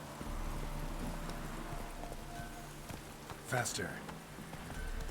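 Hoofbeats of Roach, the horse in The Witcher 3: Hearts of Stone, clop softly over a rainy backdrop as a voice speaks a word, with a short sharp sound near the middle.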